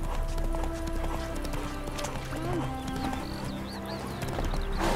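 Roach, a horse in The Witcher video game, trots with quick, regular clip-clopping hooves up close, with faint background ambience and a few brief bird-like chirps mixed in.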